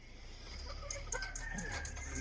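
Chickens cluck in short bursts in a small backyard coop, with a rooster crowing partway through over a steady low farmyard hum, moderately close.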